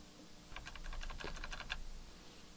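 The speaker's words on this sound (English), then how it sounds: "I'm going to use the arrow keys on my keyboard" Arrow keys tapped on a computer keyboard, about a dozen quick, light clicks in a steady run over a second and a half, close and fairly quiet, with no talking.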